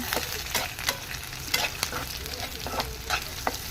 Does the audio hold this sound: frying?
yes